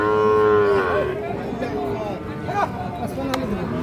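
A 6–7-month-old Sahiwal bull calf at a busy cattle market lets out a loud, drawn-out moo that slides down in pitch, followed by fainter lowing and shorter calls, with voices and market chatter underneath.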